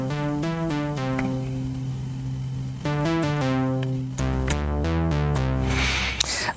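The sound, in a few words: Monark software synthesizer preset, Minimoog-based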